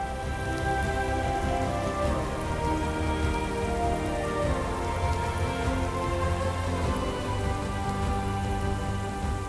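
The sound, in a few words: rain and distant thunder, video game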